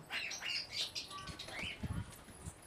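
Pigeons flap their wings as they come in to land, a few quick soft fluttering bursts close by, with faint chirps mixed in and brief low thumps toward the end.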